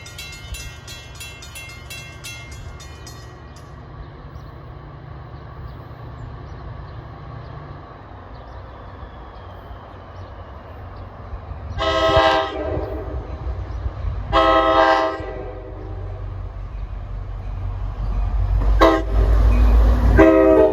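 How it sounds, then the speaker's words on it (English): Locomotive 57 labors up a grade in northern New Jersey with a steady low engine rumble throughout, joined by several loud horn blasts: two distinct toots in the middle and another sounding near the end. "You can hear 57 working hard climbing the grade."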